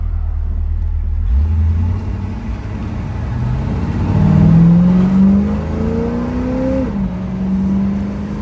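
A 1967 Chevrolet Camaro SS convertible with a 327 V8 rumbles low, then accelerates hard, its engine note climbing and dropping with each shift through the gears, loud and close.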